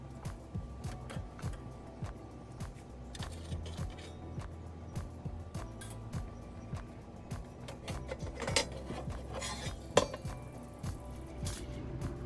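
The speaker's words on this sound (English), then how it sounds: "you can remove all of your grilling components" Metal grilling components are lifted out of a pellet grill, with a steady series of close, sharp clanks and clinks scattered irregularly throughout and one louder metallic knock near the end; no talk.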